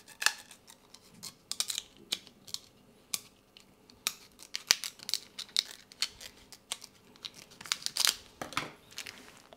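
Scissors snip through a plastic drinking straw from the side during cake decorating, producing sharp crisp crunching cuts with plastic crinkling between them, close and fairly quiet, with no talking.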